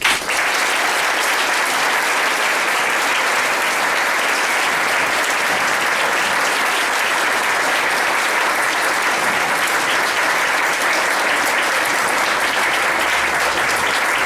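An audience claps steadily and loudly at an alumni service award event, welcoming a speaker to the stage, the applause sustained without a break.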